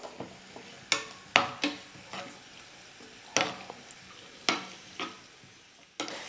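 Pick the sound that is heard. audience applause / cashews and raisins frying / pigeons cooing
cashews and raisins frying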